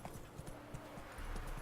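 Horse hooves clip-clop steadily across the ground in The Witcher 3, a light even trot heard at moderate distance over quiet game ambience.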